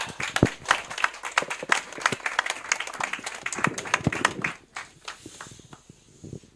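Audience applause welcoming an honorary adviser's congratulatory speech at a Vietnam War veterans' civic group event joining the Liberty Unification Party in Korea; dense, steady clapping from a crowd that thins toward the end.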